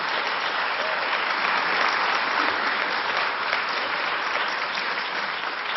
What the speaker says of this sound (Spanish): Sí, creo que se merece un aplauso.